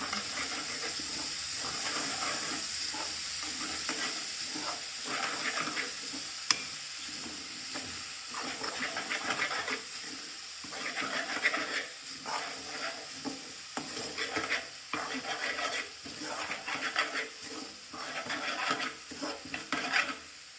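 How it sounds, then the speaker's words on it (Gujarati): Chopped tomatoes are stirred into a hot pan of oil with green garlic, giving a continuous sizzle broken by repeated scraping and stirring strokes, fairly close and moderately quiet. "આપણે ટામેટા કટિંગ કર્યા છે એ આપણે એડ કરવાનું રહેશે. સારી રીતે મિક્સ કરી દઈએ."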